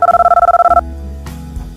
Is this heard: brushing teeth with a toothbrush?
no